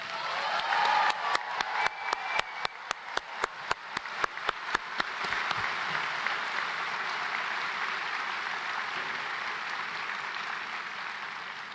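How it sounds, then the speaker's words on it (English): Audience applause at a Villanova law school commencement ceremony: dense, loud clapping in a large hall that starts with distinct claps, swells, then settles into a sustained wash of applause. "please shower these amazing students in front of you with a round of applause"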